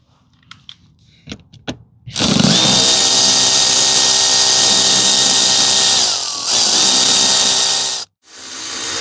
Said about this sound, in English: Take these 10 or 8 10mm out, and then we'll go up to the sides and get access to those.